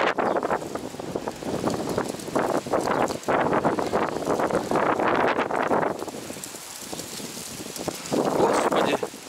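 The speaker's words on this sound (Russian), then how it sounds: "ветер кружит листву" Gusty outdoor wind swirling leaves on a grassy walk, a loud, steady rush and buffeting across the microphone that surges and dips for nine seconds, with voices faintly mixed in.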